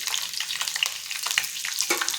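Ivy gourd (tindora) tipped into hot oil already crackling with mustard seeds and cumin, giving a lively, crackling sizzle with stirring scrapes, close and fairly loud with no talking.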